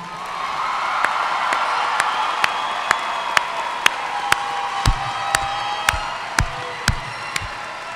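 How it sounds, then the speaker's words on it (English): A crowd at a high school graduation ceremony breaks into sustained applause for the graduates, with steady clapping and scattered cheers from a large audience. "Let's have one more round of applause for our graduates."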